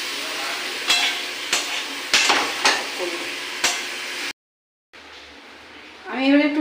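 Jackfruit curry sautés in a pan over low gas, with a soft sizzle broken by repeated spatula scrapes and knocks, then a brief gap before a voice speaks over continued frying.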